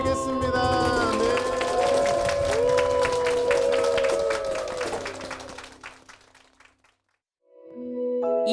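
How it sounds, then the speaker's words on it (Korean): Church congregation applauding loudly, steady dense clapping with music tones over it, fading out toward the end before a new sound starts. "주님께 영광의 박수를 드리겠습니다."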